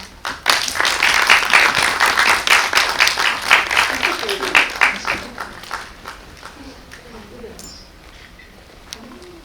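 A cinema audience at a film premiere Q&A applauds loudly for several seconds, then the clapping thins and fades out, leaving a quiet hall with faint voices and movement.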